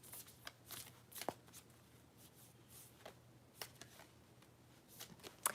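Oracle cards are shuffled by hand in a quiet room, giving soft, papery riffling with several sharper flicks and slaps spread through the passage. Nobody speaks.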